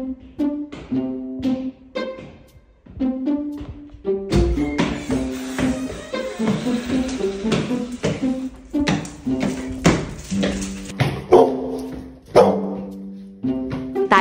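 A pitbull dog barks in a home, sharp repeated barks in irregular bursts, close and loud, mixed with other household noise through the middle stretch.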